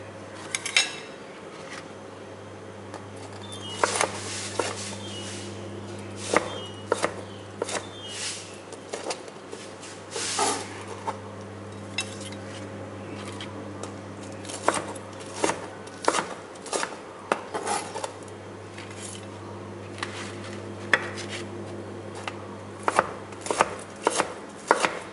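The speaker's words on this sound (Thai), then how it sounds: "เนื้อนุ่มๆเลยค่ะเตรียมหั่นใส่จานนะคะ" Repeated knife cuts through battered fried pork tap against a plate, irregular slicing strokes over a steady low hum, close and fairly crisp.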